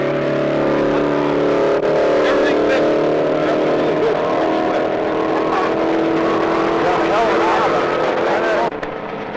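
A 1960s race car engine runs loud and steady at high revs in an outdoor setting during a Texas race event, with a strong droning roar, wind buffeting and people talking over it.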